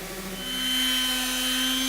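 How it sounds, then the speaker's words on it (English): An electric sander held upside down runs steadily while sanding the bevel of a wooden grill scraper, a loud continuous whirring hum with a constant tone. "Here I'll just turn my sander upside down to sand the bevel."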